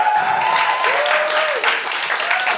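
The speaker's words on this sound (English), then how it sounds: "That's the most applause consecutively ever that I've ever received." Loud, sustained applause fills the room for a storyteller on stage at a live storytelling event, a dense wash of clapping with a voice briefly audible over it.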